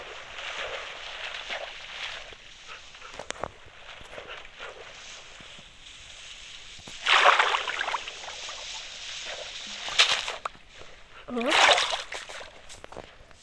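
In the Minecraft video game, a character drops into water and moves through it, with soft sloshing and then a few louder splashes that come in short bursts.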